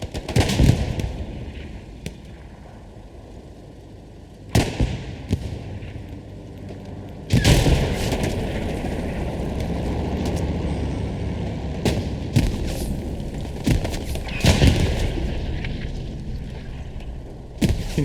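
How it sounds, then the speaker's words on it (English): Video game Hell Let Loose tank battle: heavy cannon blasts and explosions boom at irregular intervals over a constant rumbling war din, with loud sharp impacts and echoing tails. "Can hear a tank fight going on our right side here."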